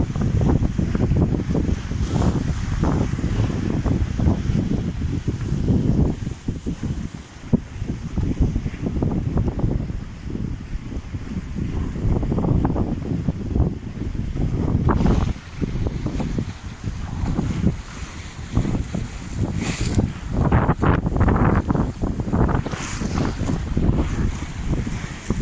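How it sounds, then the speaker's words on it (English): Waves and wind surround a sailboat running downwind in the morning, with constant roaring wind buffeting the microphone and water sloshing and splashing against the hull, loud and unbroken with no talking. "Waves aren't as big as they were yesterday, but they seem a bit more all over the place."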